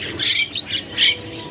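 A jalak kebo starling squawks at a bird kiosk in a market, giving four or five harsh, close, bright calls in quick succession.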